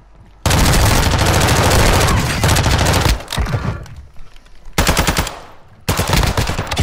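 Sustained automatic submachine gun fire in Call of Duty: Modern Warfare II, loud and close, in long rapid bursts with a short lull and renewed firing, louder and quieter stretches alternating.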